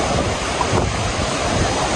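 Ocean waves along White Beach on Boracay Island, a steady wash of surf mixed with wind noise buffeting the microphone, constant and fairly loud for the whole two seconds, with no talk.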